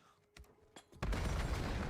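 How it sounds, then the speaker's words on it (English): A grenade goes off in the video game Black Ops 7 after a few sharp cracks, bursting into a loud, broad blast that stays dense and roaring to the end. "What a nade off the start."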